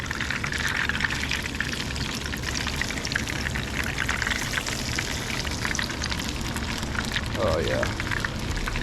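Fish caught off the rocks crackles in hot oil, a steady broadband sizzle like light rain running throughout, with someone talking briefly over it.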